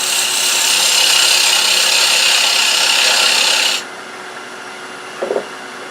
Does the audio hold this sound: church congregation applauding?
no